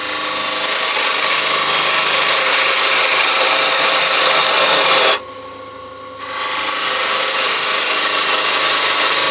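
Woodturning lathe squaring off a large mulberry wood blank, a loud continuous close scraping rasp of the cutting tool that cuts out for about a second midway and then resumes.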